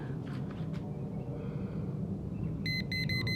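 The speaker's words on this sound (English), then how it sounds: "It's beeping. That means its current is coming." Rapid electronic beeping from a handheld electrical current tester during gazebo wiring starts near the end, a quick repeating series of high pips over a low background hum.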